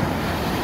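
Big ocean waves crashing and washing high up the shore at Noja in Cantabria, Spain, heard as a steady, dense roar of surf with wind noise across the microphone, no pause in the wash.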